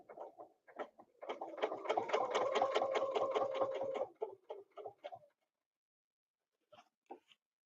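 A sewing machine stitches a quilt border guided by a template, running in one close, rapid burst of about three seconds, with short stuttering starts before it and a few faint clicks after it stops.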